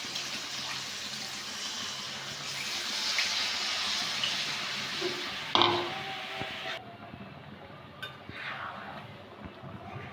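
Water poured into a Bengali fish curry with boal fish as it cooks, a steady gushing splash into the pan that fades after a few seconds, followed by quieter clinks and light kitchen clatter.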